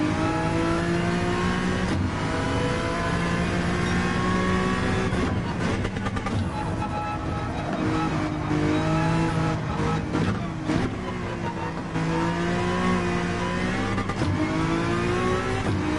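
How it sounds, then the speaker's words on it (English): A JDM right-hand-drive Toyota MR2 in Gran Turismo 7 revs hard through repeated rising engine sweeps, with gear changes and turbo blow-off hisses, loud and close. "My Toyota MR2, it's a JDM right-hand drive, and it has quite the blow-off valve."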